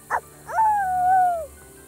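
A child gives a short yip, then a drawn-out whining howl, imitating a dog barking, close and clear against quiet room noise.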